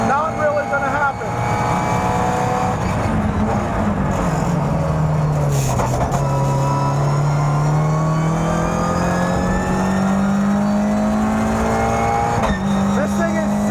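Toyota GR86 Cup race car with 228 horsepower on slick tyres, heard from inside at speed: a loud, constant engine drone whose pitch sweeps down and climbs back up through gear changes and corners.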